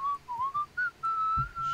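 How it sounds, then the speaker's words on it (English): A person whistles a wavering tune close by, in short phrases and then one longer held note, with no talking over it. "I was whistling."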